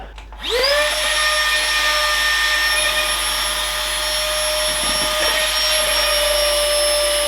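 Flextailgear Tiny Pump deflating a camping mattress: a click, then a high-pitched motor whine spins up and holds steady and loud throughout.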